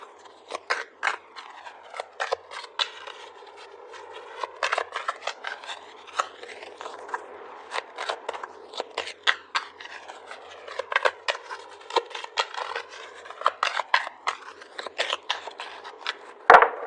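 Tarot cards are shuffled and pulled, giving a run of crisp, close riffling and flicking snaps with soft scraping between them, steady and alone throughout.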